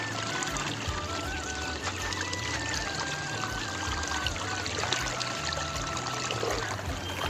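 Rainwater pours and trickles steadily out of a channel during a rainy village fishing outing, a continuous close wash of flowing water with faint voices now and then.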